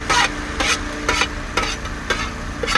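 Tomatoes go into onions frying in oil for a mutton dish, stirred in steady repeated scrapes every half second over a continuous close sizzle.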